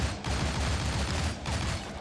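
Rapid bursts of gunfire from the Shank video game, a dense, loud, continuous rattle of shots running the whole stretch with no talk over it.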